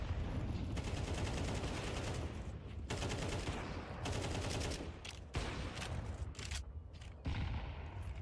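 Bursts of SMG gunfire in a Counter-Strike 2 match at the PGL Astana 2025 tournament, with several rapid overlapping volleys separated by short pauses, loud and close.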